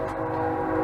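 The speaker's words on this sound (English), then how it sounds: "Oh yay, a train!" A passing train heard as a short, sustained rumbling drone with a horn-like tonal layer, moderately loud and steady through the brief moment.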